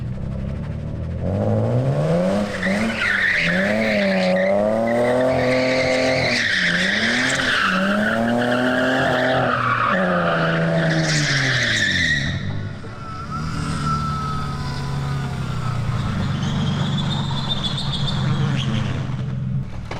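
Loud engine of a cheap drift car revving in rising and falling sweeps while tires squeal and skid continuously, close by, as the car spins repeatedly doing donuts.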